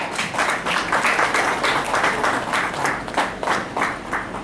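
A university conclave audience claps for an honoured pharmacy institute guest, giving a sustained, even round of applause from many hands with no break.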